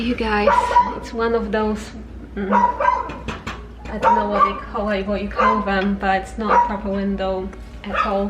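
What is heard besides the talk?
dog barking outside a hotel room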